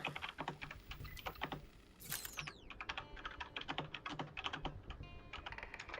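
Rapid keystrokes on a laptop keyboard inside a video game, a steady irregular patter of clicks running throughout at moderate level, with a brief electronic sweep near the start.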